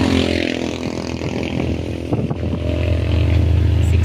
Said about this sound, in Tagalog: ang lakas ng motor niya, Magno, tricycle.